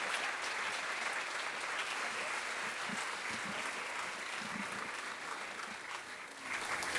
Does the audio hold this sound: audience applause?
yes